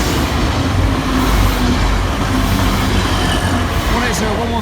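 A Class 180 diesel train passing close by on an East Coast Main Line diversion near Lincoln, with a loud continuous rumble and wheel and rail noise throughout, plus faint squealing tones.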